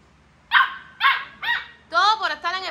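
A dog in a home in Cuba barks repeatedly up close, with several sharp, loud barks followed by a quicker, rougher run of yaps.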